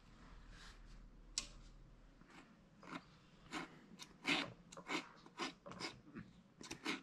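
Wire in the leg of a sculpted cowboy figure being cut, a series of sharp, close snips and crunchy clicks repeating irregularly, growing more frequent toward the end.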